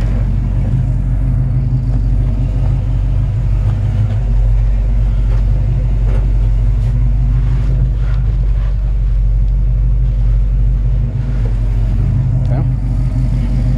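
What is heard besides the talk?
1964 Chevy C-10 truck engine running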